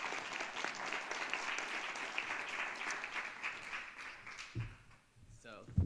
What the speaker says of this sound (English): but give them a round of applause.